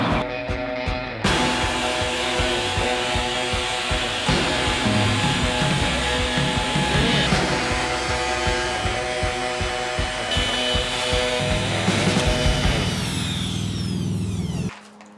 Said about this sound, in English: I drilled out holes for the vertical through tenons to go through the horizontal through tenons.